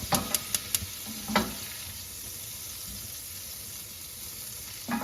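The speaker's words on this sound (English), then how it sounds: "we're gonna add a whole stick of butter in here" A whole stick of butter melting in a pan over medium-low heat, a quiet steady sizzle after a few sharp clicks and a stirring scrape at the start, close with no talking.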